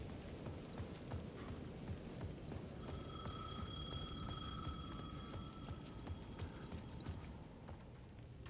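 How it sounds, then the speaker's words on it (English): A payphone rings in the video game Alan Wake 2, a steady repeating electronic trill over dark ambient background noise and footsteps, continuing for several seconds. "The payphone at the edge of the plaza was ringing again."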